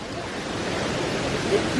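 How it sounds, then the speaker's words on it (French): Illuminated waterfalls at night in Japan give off a steady, dense rushing roar of falling water, continuous and fairly loud throughout with no breaks, filling the whole short stretch. "Il est venu aux cascades."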